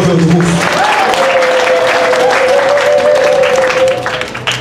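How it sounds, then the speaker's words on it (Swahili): Sustained applause from a worship congregation fills the space for several seconds, with a wavering sung or keyboard melody above the clapping before it thins out toward the end. "Mpenzi makofi ya utukufu."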